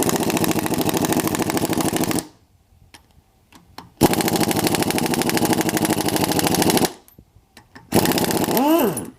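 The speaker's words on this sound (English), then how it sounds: "this is why an impact wrench is really nice" An impact wrench hammers loose cylinder head bolts on a Ford 9N tractor engine, firing in three loud, rapid rattling bursts separated by short pauses.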